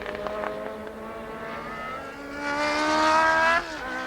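Formula 1 race cars of the 1981 season at speed, a steady high engine whine rising in pitch as the cars accelerate, then cutting off sharply near the end, loud and continuous.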